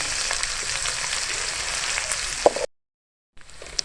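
Browning onions sizzling steadily in a pan with garlic-ginger paste, a continuous bright hiss with a small clack near the end before a brief silence, then the sizzle returns.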